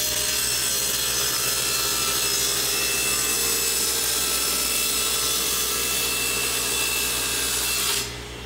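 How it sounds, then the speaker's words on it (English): Table saw ripping a Lexan polycarbonate sheet four inches wide against the fence, a continuous harsh whining cut with a steady motor hum, close and loud, easing off in the final moment as the cut finishes. "First thing we gotta do is cut this at a table saw."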